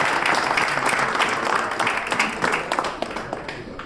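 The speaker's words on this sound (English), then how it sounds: "let's just give this round of applause to our Honorable Prime Minister Mr. Modi and also to our guests." A crowd of listeners at a speech by the Indian Prime Minister bursting into sustained, dense applause, loud at first and slowly tapering off, with a few murmuring voices mixed in.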